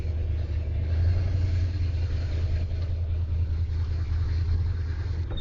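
A car's engine runs with a steady low rumble on a cold morning as it pulls away, continuous and fairly close, with no voices over it.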